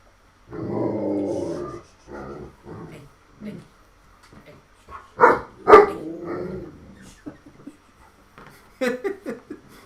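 A dog barks and growls in short, close bursts indoors, with spoken voices and scattered clatter in between.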